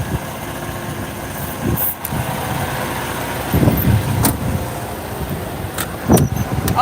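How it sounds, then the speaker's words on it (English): An upgraded truck engine idles with a deep, continuous rough rumble, loud and close, broken by a few clanks and knocks of handling nearby. "Truck sounds like a monster."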